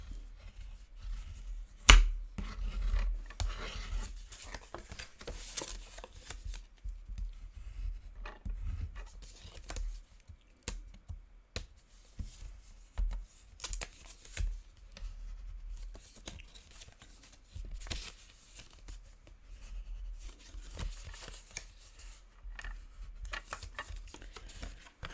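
A bone folder presses and creases the folds of a paper gift box made for a place-card favour. It makes a run of soft, close scraping strokes and sharp little taps, irregular and fairly faint, with no talking.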